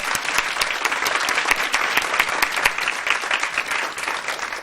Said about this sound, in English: if y'all don't mind joining me to just give this amazing woman a round of applause